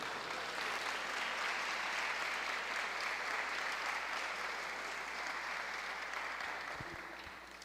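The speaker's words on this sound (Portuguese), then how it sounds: "Vamos aplaudir a Jesus?" A church congregation applauds, a continuous dense wash of clapping from many hands that holds steady and fades slightly at the end, fairly distant and with no talk over it.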